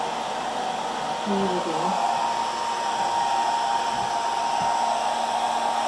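A hair dryer blows across wet acrylic pour paint with a steady, close whirring rush that holds throughout, while a person speaks briefly over it.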